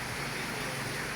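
Steady rain lasting about ten minutes falls outdoors near a car being worked on for rear-bumper paint, a dense even hiss of drops throughout with no talk.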